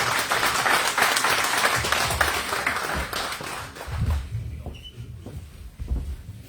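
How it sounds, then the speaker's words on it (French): An audience at a diaspora conference and debate in Gembloux applauds loudly in a dense burst of clapping that thins into scattered, fading claps, with a few louder single claps toward the end. "vous pouvez applaudir un peu plus fort"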